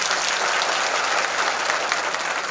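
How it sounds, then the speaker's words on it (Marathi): Audience clapping loudly at a public statue unveiling ceremony, a dense, steady burst of applause from a large crowd that continues throughout, with no talking heard. "जोरदार टाळ्या वाजवून."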